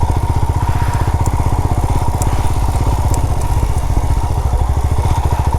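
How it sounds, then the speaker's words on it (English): A motorcycle on a road in Varkala, India, gives off a loud, close, rapid engine putter that stays steady and pulsing throughout, with faint clatter above it and no talking. "There's a bike going over there."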